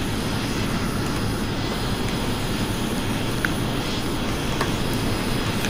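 An F-22 Raptor in a flight simulator game drones with a steady, loud jet engine roar that holds level throughout, with no voice over it.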